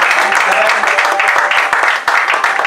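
A church congregation applauds Jesus during worship, giving a dense, loud burst of clapping from many hands that carries on steadily throughout, with voices mixed in among the applause.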